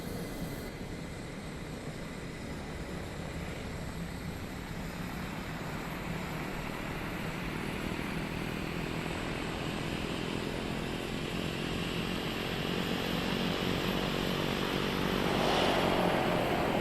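A propeller aircraft taking off in Microsoft Flight Simulator 2024, heard from a Cessna Caravan on the ground: a steady loud engine and prop drone that swells gradually as the departing plane powers up.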